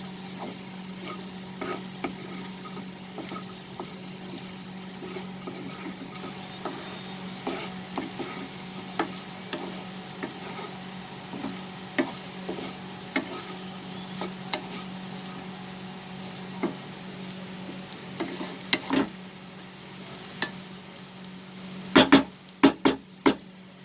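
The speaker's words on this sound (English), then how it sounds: "add the garam masala powder now. Saute it." Chicken with garam masala sautéed in a pan over medium flame, a steady sizzle with scattered ticks and scrapes of stirring, close and moderately loud, with a quick burst of sharp clatters near the end.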